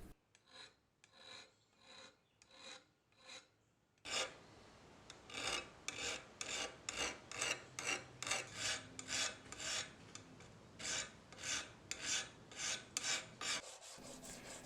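A metal file rasps a false bevel onto the spine of a Wharncliffe knife blade, a close series of regular back-and-forth strokes, lighter at first, then heavier and steadier.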